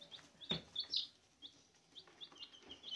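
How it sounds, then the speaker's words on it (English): Young chicken chicks give soft, contented high chirps, a string of short tweets scattered across a few seconds, close by with no talking. "those little chirps we hear now are their normal happy chirps"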